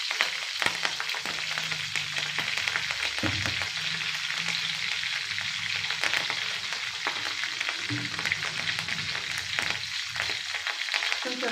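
Tempering of cumin and crushed garlic fries in oil on a low flame, making a continuous close-up sizzle broken by intermittent stirring scrapes, with no talking.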